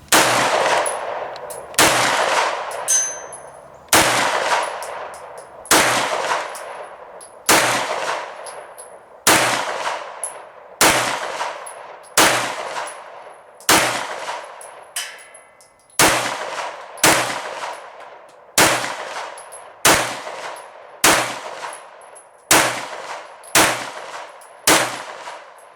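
Close, loud rifle or pistol shots at an outdoor shooting range, about fourteen evenly spaced reports, each trailed by a metallic clang as bullets strike steel targets.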